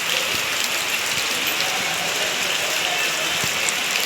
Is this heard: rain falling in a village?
yes